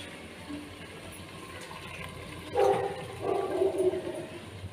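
Water poured from a tumbler onto rice in a pot for chicken dum biryani, a short splashing gush that starts midway and swells again briefly, close and fairly quiet with no talk.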